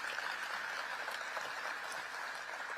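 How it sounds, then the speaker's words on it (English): Faint, steady applause from an audience at a political gathering, honouring law enforcement officers present; a distant, even patter of many hands with no talk over it. "Let's give them a round of applause."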